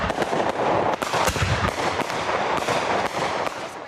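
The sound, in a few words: Independence Day fireworks exploding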